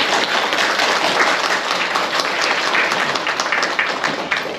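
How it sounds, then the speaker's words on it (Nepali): An audience at a Buddhist community centre in Aldershot gives a warm, steady round of applause to welcome a visiting Khenpo, the dense clapping holding loud from start to finish. "सबैले एकपल्ट तालीले स्वागत गरिदिनुहोस् त उहाँलाई"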